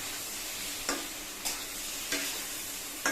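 Potatoes fry in a pan for a poppy-seed dish, a steady soft sizzle broken by a few sharp scraping stirs at regular intervals.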